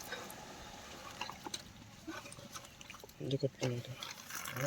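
Water sloshes and splashes in a village pond where people are fishing, with intermittent splashy bursts under steady nearby talk.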